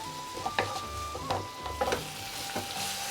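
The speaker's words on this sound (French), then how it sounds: "On mélange tout ça, on le fait revenir ensemble." Sauce with chili and oyster sauce stirred and fried in a pan, a steady sizzle broken by several sharp utensil scrapes and clacks at irregular intervals, close up with no talking.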